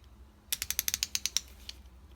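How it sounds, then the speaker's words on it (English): A Harbor Freight Pittsburgh Pro 72-tooth ratchet clicks in a quick, even run of about ten sharp, close metallic ticks, then one fainter tick after a brief pause. "really smooth ratcheting action, 72 teeth"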